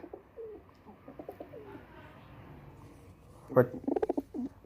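Soft Teddy pigeon coos murmur in the background, then a louder burst of cooing calls near the end, close and throaty.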